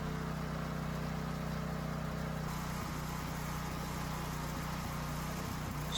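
Portable generator engine running steadily at a constant drone, close and continuous, with a slight change in tone midway and no speech.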